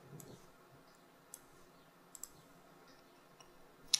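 A mouse click on the play button inside the Unity editor, a few faint, isolated sharp clicks against quiet room tone, the last one slightly louder, with no talk.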